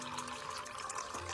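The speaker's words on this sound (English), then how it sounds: "So you're going to take your pot and fill it with room temperature distilled water." Room-temperature distilled water runs steadily into a pot for soaking dehydrated orchids, a continuous close pouring and filling sound with no speech.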